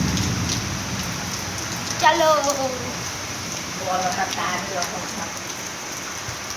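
Rain falls steadily as a continuous wash of drops on surfaces close by, with people talking briefly over it twice.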